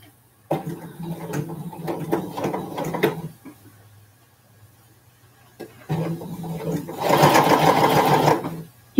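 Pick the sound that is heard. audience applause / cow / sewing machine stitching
sewing machine stitching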